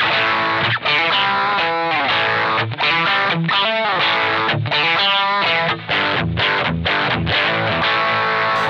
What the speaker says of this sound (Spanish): De aquí vamos a la distorsión, que es esta.